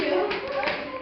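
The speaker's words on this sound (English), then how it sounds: "give applause." A class group claps briefly after a student introduction, with quick overlapping hand claps and taps mixed with chattering voices, close and moderately loud for about a second.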